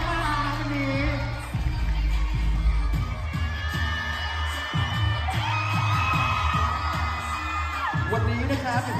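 A large crowd at a fan meeting in Thailand applauds and cheers loudly over booming music, with whoops and whistles rising above the steady roar.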